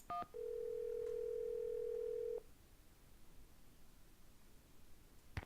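Telephone keypad tones followed by a steady dial tone in the Nancy Drew game Secret of the Scarlet Hand, as a call is placed to a cultural center; a few short dialing beeps, then a continuous tone for about two seconds, then quiet.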